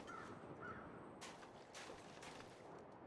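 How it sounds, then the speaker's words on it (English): Crows caw twice early on, faint and distant, in the video game The Long Dark, over a steady wind-like ambience with a few soft thumps. "Ah, there are the crows."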